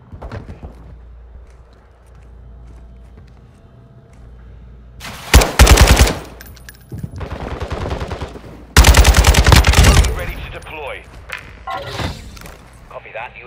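Rapid Minibak submachine gun fire from Modern Warfare 2, two loud sustained bursts with quieter shots and game effects between, over a low background rumble.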